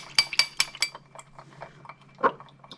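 A spoon stirs hand sanitizer gel mixed with spirit in a jar, giving a quick run of four bright clinks against the glass followed by softer, scattered taps and one final clink, close up with no talking.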